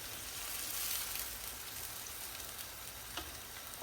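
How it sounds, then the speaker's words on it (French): Salted cod and leeks simmer in a pot with a soft, continuous bubbling hiss, steady and fairly close, with no voices. "Je vais laisser mijoter."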